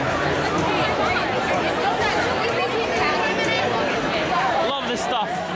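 Dense crowd chatter fills a packed street at the Feast of San Gennaro in Little Italy, New York, a continuous loud babble of many voices with nearby talk mixed in throughout.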